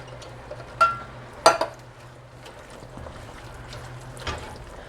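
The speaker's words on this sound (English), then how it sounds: "Just keep stirring because you don't want that garlic and onion to sit on the bottom of the pan" Stew of garlic, onion and fire-roasted stewed tomatoes stirred in a pot, a soft continuous scraping with a couple of sharper clinks of the spoon against the pan near the start.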